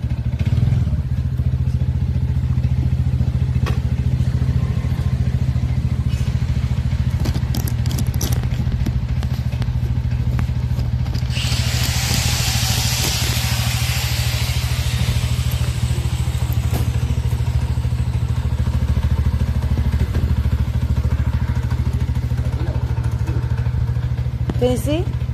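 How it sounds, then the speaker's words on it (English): A faulty scooter at a repair shop in Sri Lanka runs with a steady low engine drone and irregular clattering and knocking, close and loud, with a burst of hissy noise midway. "Something wrong with my scooter."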